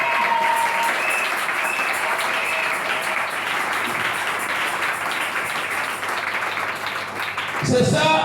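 A church congregation applauds with loud, dense, continuous clapping that holds steady for several seconds and then cuts off abruptly near the end.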